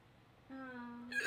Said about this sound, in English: No, I just got the hiccups.